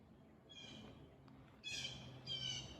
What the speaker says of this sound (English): We have some blue jays flying over, heads squawking.